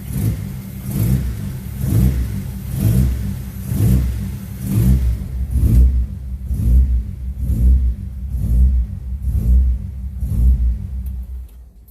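A Datsun 280Z engine runs rough and loping as if fitted with an aggressive cam, a steady uneven pulsing idle rhythm close up and fairly loud, with no talk over it.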